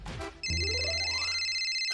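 A phone rings in a domestic scene from a Marathi TV serial, its steady electronic tone starting abruptly after a brief rustle and continuing loud and close, alone, to the end.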